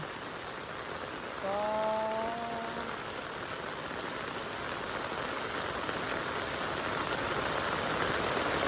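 Heavy rain falls at night in a steady, dense hiss that fills the whole stretch, with a brief tonal whine near the start.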